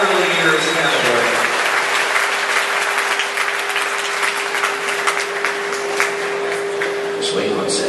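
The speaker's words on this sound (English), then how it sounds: "Let's give one more round of applause for non-professional early years category." Steady, full audience applause at an Elvis festival awards, a dense wash of clapping lasting several seconds, with a constant hum underneath and a voice briefly heard at the start.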